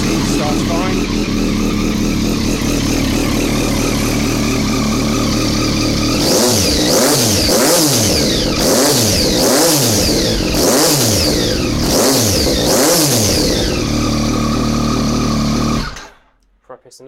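A Yamaha MT-09 motorcycle with a flashed ECU idles loudly up close, then is revved repeatedly in sharp rising and falling bursts before the engine cuts off abruptly.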